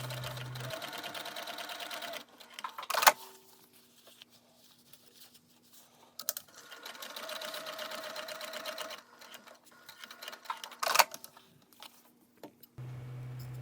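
A sewing machine bastes fabric layers together at the sides of a crossbody bag, whirring in several sustained runs separated by quieter pauses with clicks and fabric handling, close and without voices.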